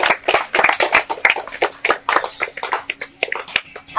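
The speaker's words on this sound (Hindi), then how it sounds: "सब लोग खड़े होके जबरदस्त तालियों के साथ उनका अभिवादन करेंगे" Audience clapping at a diet seminar, with close, loud individual claps in an irregular rhythm, the sound of a smaller crowd applauding nearby.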